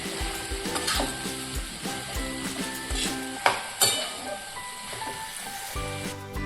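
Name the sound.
stirring potato masala filling for masala dosa in pan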